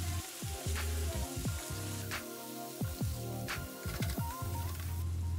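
Chopped beef tripe sizzles in hot butter with a soft, steady frying hiss, under a recurring low musical background pattern.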